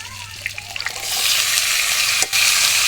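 Chopped pumpkin stalks drop into a pan of frying onions and potatoes. Scattered clicks give way to a loud, sustained sizzle, briefly cut by one stir.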